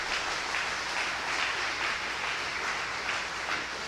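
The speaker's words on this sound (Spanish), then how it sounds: "Dele fuerte palmas al Señor." A church congregation claps together during a sermon, a dense steady wash of applause that fills the room without pause.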